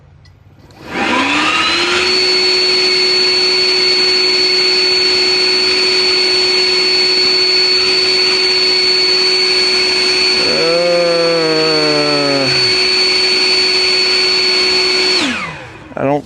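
A Flowzone Vortex battery-powered mist blower runs for about fourteen seconds, spinning up to a loud, steady high-pitched whine, dipping briefly midway, then winding down at the end, with no talking.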